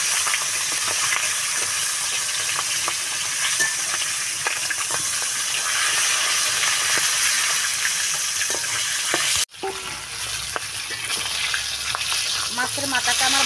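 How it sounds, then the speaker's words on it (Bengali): A large katla fish head fries in hot oil in a pan, giving a continuous loud sizzle and crackle with a short break near the end before the spitting resumes. "মাছের মাথাটা আমার ভালোভাবে ভাজা হয়ে গিয়েছে"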